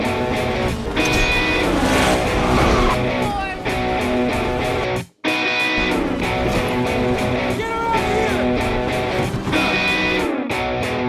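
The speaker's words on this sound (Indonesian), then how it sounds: "Ford ngebut dengan motor JJ" A motorcycle speeding through a film chase scene, a loud continuous engine roar rising and falling with gear shifts, a brief sudden silence midway, then more racing engine noise with tire and rolling sounds.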